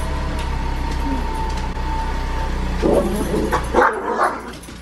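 A family dog barks a few times in bursts near the end, close by, over a steady low engine-like hum, with no talk over the barks.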